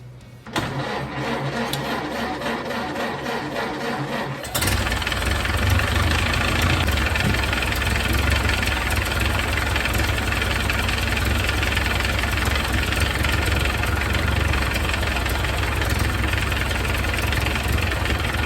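An old Ford Model A engine with a repaired exhaust cranks for a few seconds, catches, and settles into a loud, steady, slightly knocking idle close by.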